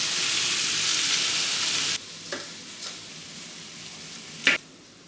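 Onion frying in a hot pan gives a loud, dense sizzle that cuts off abruptly, followed by quieter faint crackles and a brief sharp tap near the end.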